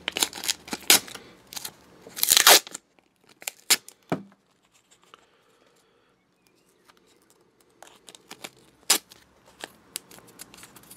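Masking tape is torn and peeled for an airbrush stencil on a model, with sharp ripping bursts at first, quiet gaps, and a few later crackles.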